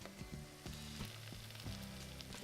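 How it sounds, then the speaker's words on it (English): Steady crackling sizzle of vegan garlic dill potato pancakes frying in a pan, close and continuous, with occasional soft scraping and clinks of a spatula. "Hear that nice sizzle."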